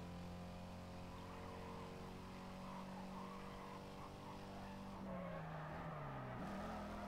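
A race car engine in the video game Need for Speed: Carbon drones on at a steady, fairly quiet pitch, then briefly drops and rises again as it shifts near the end.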